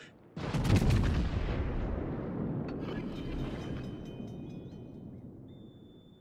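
Naval gunfire from battleships in World of Warships, one loud heavy cannon boom that rolls into a long decaying rumble, with faint interface beeps near the end.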